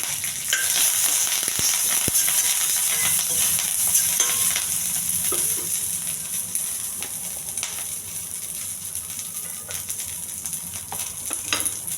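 Curry leaves and green chillies fry in hot oil in a pan, giving a steady, dense sizzle and crackle throughout with occasional sharper pops.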